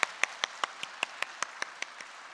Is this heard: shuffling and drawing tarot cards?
no